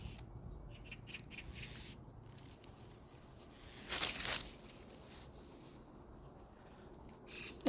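Birds in a jungle squawk and call intermittently at a moderate distance, with one louder harsh squawk standing out over a constant outdoor background hiss.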